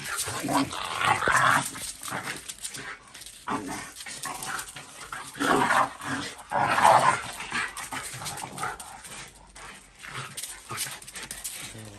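Several dogs play-fighting at close range, scuffling and snarling, with bursts of barking, growls and whimpers rising and falling throughout.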